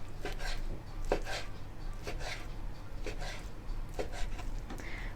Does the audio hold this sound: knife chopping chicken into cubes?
yes